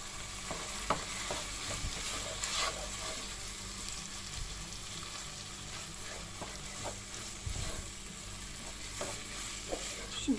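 Kibbeh filling, seasoned with salt, red pepper flakes and black pepper, roasts in a pan with a low, continuous sizzle broken by occasional spoon scrapes and knocks as it is stirred.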